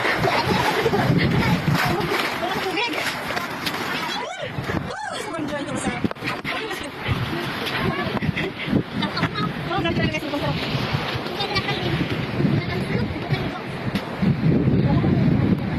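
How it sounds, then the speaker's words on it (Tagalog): Strong river current rushing during a crossing on foot, a loud continuous turbulent roar with splashing and wind buffeting the microphone, and voices talking over it. "Malakas ang tubig, grabe."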